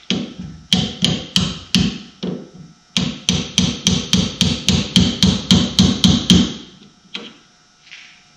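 Loud, close hammer blows on metal while installing a VW Beetle sway bar, a few spaced strikes and then a quick steady run of about a dozen ringing hits before stopping.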